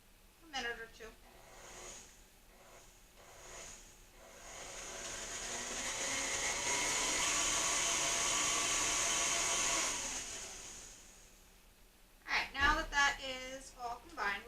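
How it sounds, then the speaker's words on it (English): An electric stand mixer with a whisk attachment runs on low speed through cupcake batter made with fruity cereal, a steady whirring hum that swells and holds for several seconds, with a person speaking before and after. "I'm just going to mix it on low for a minute or two."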